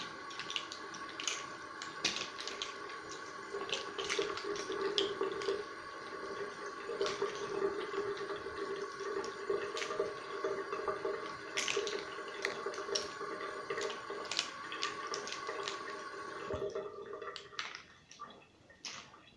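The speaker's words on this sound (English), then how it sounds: "So the first thing I will do is to wet the makeup brush." Cool tap water runs steadily into a sink to wet a makeup brush, a continuous close trickle with small drips and splashes for most of the stretch before stopping near the end.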